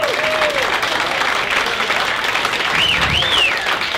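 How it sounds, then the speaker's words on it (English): Steady audience applause and cheering for a comedian at a stand-up comedy show, sustained and even throughout, with a few whoops rising over the clapping. "Clap for him."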